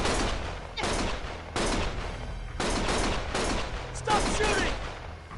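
Video game gunfire comes in loud, close bursts of rapid shots, about five volleys separated by brief gaps.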